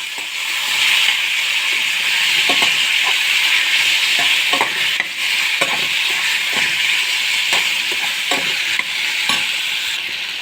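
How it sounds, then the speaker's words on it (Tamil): Potatoes sauté in a kadai of oil with mustard seeds and curry leaves, a loud continuous sizzle broken by regular scraping strokes of a spoon stirring the pan, no talking. "அப்புறம் அந்த உருளைக்கிழங்கு நல்லா வதக்கோங்க"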